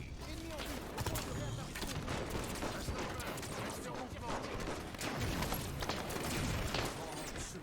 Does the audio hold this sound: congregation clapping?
no